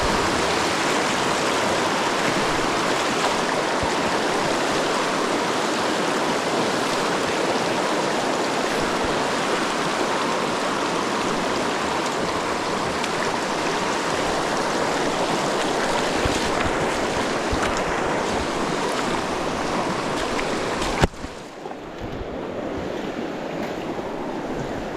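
A mountain creek in Wyoming rushes steadily over rocks during a fly-fishing trip for cutthroat trout, a dense continuous close-up roar of flowing water with no talk, briefly interrupted by a sharp knock near the end.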